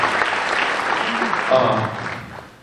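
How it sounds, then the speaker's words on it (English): Audience at a community choir spring concert applauds the volunteers who set up risers, a steady wash of clapping that swells slightly midway, then fades out toward the end. "a round of applause for all those who help put up risers and do different things"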